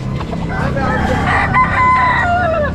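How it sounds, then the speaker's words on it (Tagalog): Roosters and chickens at a pet market in Baliwag crow and cluck together, one clear crow rising above the noisy flock, with faint voices in the background. "Daming manok dito mga boss"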